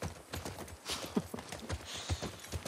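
Horses' hooves clip-clop steadily at a walking pace in The Last of Us Part II, set in Seattle, the rhythmic clopping of several animals continuing throughout with faint background ambience.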